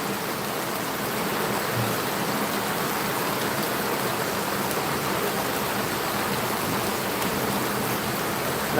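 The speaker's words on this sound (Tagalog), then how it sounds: "grabe ang lakas ng ulan sa Timong Maria" Heavy rain falling in Timong Maria, a dense, steady roar of water that holds at an even loudness throughout, with no voices.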